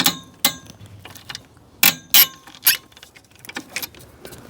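A handful of sharp metallic clicks and ratchet snaps, close and isolated, as a pivot bolt is loosened on a Subaru WRX engine with a wrench, separated by quiet pauses.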